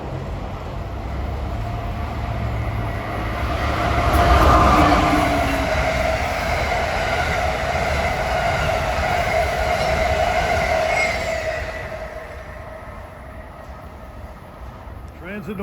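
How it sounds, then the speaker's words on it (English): Amtrak train 147, running from Springfield, Massachusetts to Roanoke, Virginia, passes by in New Jersey with a loud sustained roar and wheel noise that swells near the middle, holds, then fades as it moves off. "this is the first of a triple bagger of Amtrak trains. This is 147 from Springfield,"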